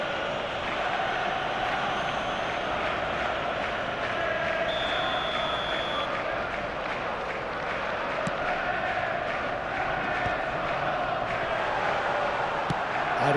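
Crowd noise in the eFootball video game forms a steady, dense roar throughout with a faint low murmur beneath, and no clear swells of cheering.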